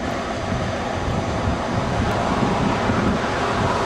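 Creek water at Cache Creek flowing strongly, a dense continuous roar and rush, loud and close, with wind buffeting the microphone and no clear breaks.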